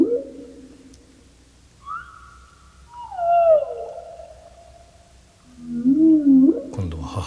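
Southern right whale calls underwater: a rising moan, a drawn-out descending tonal cry, then a louder warbling, wavering call near the end, with quiet gaps between them against low water hiss.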